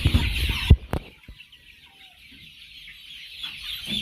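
Chickens cluck in a storm-damaged coop, a few close, soft calls after a louder opening burst, then quieter scattered noises.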